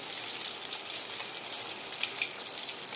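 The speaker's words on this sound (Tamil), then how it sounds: "இப்போ ஆயில் சூடாயிடுச்சு நம்மளோட காலிஃப்ளவர் 65 க்கு நாம போட்டு எடுத்துறலாம்" Cauliflower 65 frying in hot oil on full flame, a continuous crackling sizzle with dense fine pops throughout, close and steady, with no talking.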